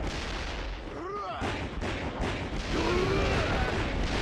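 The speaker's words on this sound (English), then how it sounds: "He's got a cannon." A cannon fires in the video game Yakuza 0, heavy booming blasts with a rumbling tail that stays loud and close, with a voice speaking briefly early on.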